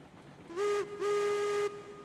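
A steam locomotive whistle in Railroads Online blows twice, a short blast then a longer one, loud and close with a breathy, tonal shriek.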